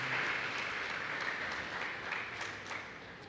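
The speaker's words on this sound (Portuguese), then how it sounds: "Uma salva de palmas, por favor." A church congregation breaks into steady applause, a dense wash of many hands clapping at moderate distance that holds for several seconds and tapers slightly toward the end, with no talking over it.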